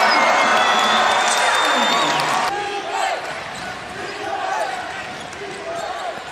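Crowd at a college basketball game between Arizona State and Stanford bursts into loud cheering and shouting, rising sharply then easing, with a commentator talking over the noise.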